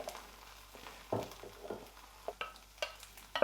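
Eggs cooking in a pan, a quiet sizzle broken by a few short scraping and tapping sounds from a utensil, close but faint, with no talk.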